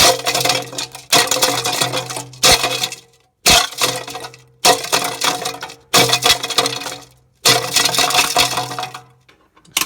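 A Vitamix 3600 blender with a reversible steel container crushes ice cubes at high speed in repeated pulses, each burst a loud, close, harsh clattering roar separated by short silences.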